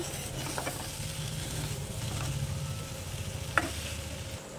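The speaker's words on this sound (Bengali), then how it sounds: "এবার সেদ্ধ করে রাখা ম্যাগি দিয়ে দেব। এবার ভালো করে মিশিয়ে নেব।" Boiled Maggi noodles are stirred into fried mushrooms in a pan, giving a continuous low sizzle with soft scraping and shuffling strokes, plus one sharp metallic tap near the end.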